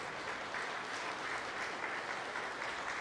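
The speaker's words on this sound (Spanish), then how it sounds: "Pues aplaudan, pues" A church congregation applauding during a homily, a steady, even wash of many hands clapping, heard at a moderate distance with no voices over it.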